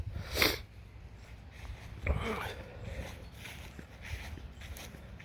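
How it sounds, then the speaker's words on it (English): Sniffling from a person with seasonal allergies, heard outdoors in a hickory and hican orchard: a couple of short, fairly close nasal sniffs stand out against quiet background rustle. "Don't mind my sniffles, it's allergy season."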